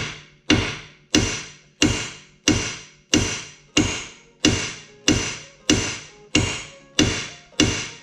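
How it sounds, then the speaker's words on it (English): Eleven sharp metallic hammer blows on a seized bolt during a Mazdaspeed 3 engine removal land at a steady, even pace, each ringing briefly before the next, loud and close with no voices. "So now let's hammer away at this and try and get this out of the way."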